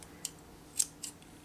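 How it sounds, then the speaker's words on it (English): Small scissors snip crochet yarn ends on a granny square, three quick, crisp, faint cuts spaced unevenly in a quiet room. "I just take my scissors and snip that off"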